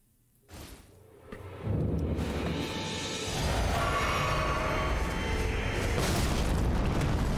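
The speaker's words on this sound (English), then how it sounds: "there's not an indication as to when that explosion happens" A trap in Elden Ring goes off in a deep, booming explosion that swells from quiet thumps into a sustained, loud roaring rumble lasting several seconds.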